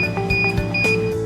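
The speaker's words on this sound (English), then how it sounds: "When shells are stripped within 30 to 50 seconds, the alarm will go off." The alarm on a chestnut stripper machine sounds with steady high electronic tones over the machine's running hum, punctuated by several sharp clunks of chestnuts tumbling inside.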